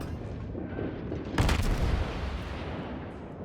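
A Kutuzov cruiser fires an armor-piercing salvo at close range on a Colorado battleship in World of Warships: one loud, sharp cannon boom with a rolling rumble that lingers and fades over a steady low battle drone.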